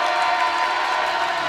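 Basketball crowd in a high school varsity gym, Shanley vs. South, growing loud during the final minute of the game: a steady, dense wash of cheering and shouting that holds at full volume throughout.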